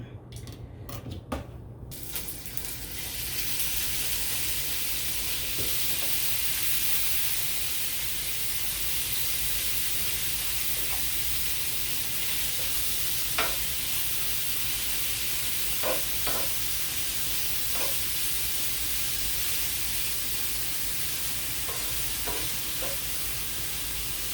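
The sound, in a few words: bacon sizzling while frying in pan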